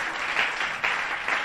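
A church congregation applauds and cheers in praise of God, a steady broadband wash of clapping with swells in intensity, filling the room without speech.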